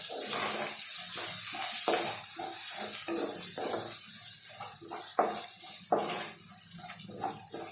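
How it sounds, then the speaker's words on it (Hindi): Coriander powder and garam masala are mixed into frying food in a pan for paneer pulao, giving a loud, steady close sizzle with rhythmic stirring pulses throughout. "धनिया पाउडर और गरम मसाला पाउडर इसी स्टेज पे ऐड कर लेंगे और एक बार इसे अच्छे से मिक्स कर लेंगे।"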